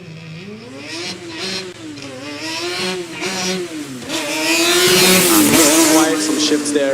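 A Formula Student race car accelerating hard, its engine note climbing and dropping through several quick gear shifts as it grows louder and nearer, with a commentator talking over it.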